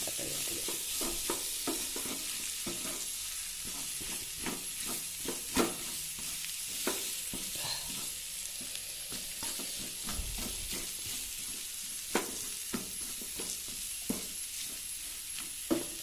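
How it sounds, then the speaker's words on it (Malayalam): Jackfruit seed upma is stirred in a pan over steady, quiet sizzling, with soft, irregular scraping strokes and a few sharper taps against the pan. "എല്ലായിടത്തും ഒരുപോലെ ഇതുപോലെ നല്ലപോലെ ഇളക്കി യോജിപ്പിച്ചെടുക്കണം."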